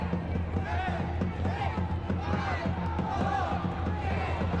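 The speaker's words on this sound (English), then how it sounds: "Crowd getting raucous now as they count down the final seconds" Raucous hockey crowd at a Men's Hero Hockey India League match, a dense steady roar of chanting voices with rhythmic rising shouts, as if counting down the final seconds, sustained and loud throughout.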